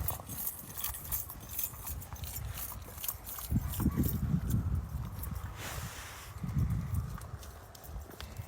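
Hooves clop along at a steady walking pace, soft and muffled on the ground, with faint outdoor background noise.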